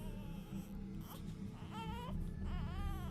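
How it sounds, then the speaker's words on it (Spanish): An infant's inconsolable crying, used as a horror story sound effect, wails in rising and falling cries over a dense, murky low background, growing stronger toward the end. "una vez más escuchó el llanto desconsolado del bebé"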